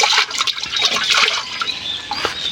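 Irrigation water flows steadily into a village onion field, a loud, close, continuous rushing and gurgling stream with no pauses.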